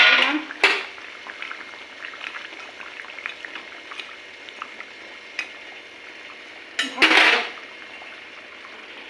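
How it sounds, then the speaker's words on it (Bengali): Katla fish curry with ridge gourd and potato simmers in a pot, bubbling steadily up close, with louder sputtering bursts near the start and again toward the end. "দেখো, ঝোল ফুটে গেছে।"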